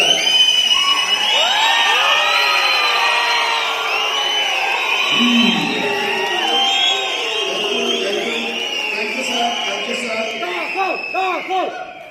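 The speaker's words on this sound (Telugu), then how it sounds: "విజిలే లింక్ వచ్చిన వాళ్ళు విజిల్ కొట్టండి, క్లాప్స్ కూడా లింక్ వచ్చిన వాళ్ళు" An audience at a speech event in Belgaum, Karnataka, whistling loudly and cheering, with many overlapping rising and falling whistles, shouts and some clapping forming a dense, lively crowd roar.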